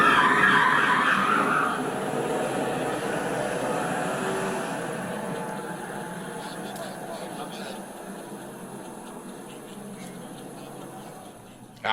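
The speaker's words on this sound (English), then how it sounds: "Squealing can be heard from Jones's vehicle as he drove into the police vehicle." Car tires squeal as a vehicle is driven into a police car, a loud screech at the start that fades into a long grinding engine and tire noise, with a voice talking over it.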